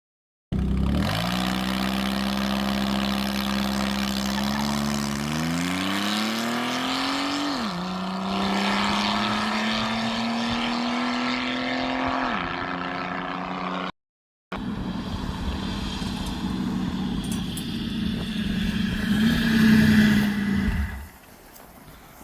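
A V6 Commodore drag car on a 50-shot of nitrous accelerates hard and loud, its engine note climbing through two gear changes before a brief cut. It then roars again and fades out.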